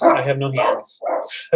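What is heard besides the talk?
dogs barking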